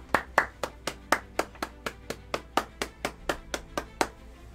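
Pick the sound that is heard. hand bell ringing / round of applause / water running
round of applause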